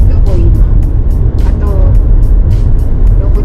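Jeep rumbling along a road with steady low engine and road noise throughout, loud and close, with voices talking over it.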